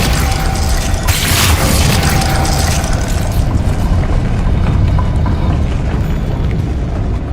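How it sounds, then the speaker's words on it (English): Spinning mechanism raising a platform in Hogwarts Legacy: a loud, steady grinding rumble with heavy low booming that runs unbroken for the whole stretch. "Making this spin ought to raise that platform."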